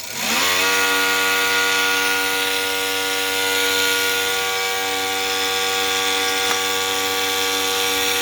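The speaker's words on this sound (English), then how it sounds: "brushless motors are not quiet" A brushless electric motor for a kayak, with a machined propeller, whirs up to speed with a rising whine, then holds a loud, steady high-pitched hum with harmonic tones for several seconds.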